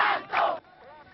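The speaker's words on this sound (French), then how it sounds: "des dizaines de milliers d'étudiants se réunissent, crient leur rejet du système" A large crowd of students gathered outside parliament shouts loudly in two surging bursts, then the roar cuts off abruptly to a faint murmur.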